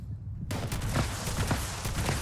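Airstrike explosions in Fallout 76 erupt as a dense, loud, rumbling barrage of rapid blasts that starts abruptly and carries on steadily.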